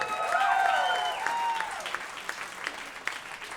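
Enthusiastic audience applause and clapping at a songwriter awards event, loud at first with a few whistles, then thinning out toward the end.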